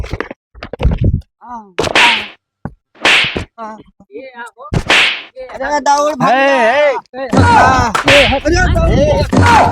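Sharp comedic stick strikes against a person, several loud whip-like cracks in quick bursts, mixed with shouting voices and a comic scene's chatter.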